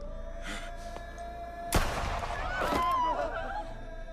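A single sharp gunshot from a pistol in a French horror film scene, cracking out loud after tense background music and decaying with a short ringing tail.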